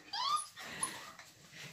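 Pembroke Welsh Corgi puppies in a summer puppy pen whimper in short, high, thin whines, one after another, close and fairly quiet over a soft background.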